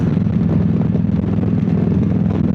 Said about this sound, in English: the bike sounds like she's running really good